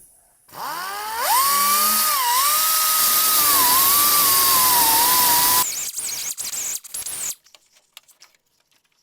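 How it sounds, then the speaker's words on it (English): A belt sander grinds down weld spots on the replacement floor panel of a 1971 Chevrolet Nova, a loud steady whine with rising and falling pitch for about five seconds, then stuttering bursts as it spins down, ending in faint clicks. "I think I'll just use a belt sander and just hit all those spots"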